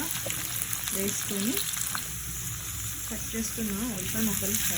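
Onion pieces frying in a pan for Chettinad pepper chicken, a continuous close sizzle with occasional stirring, while a person speaks over it.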